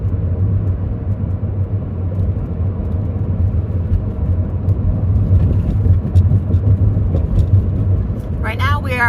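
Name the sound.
car driving along highway near Quartzsite, Arizona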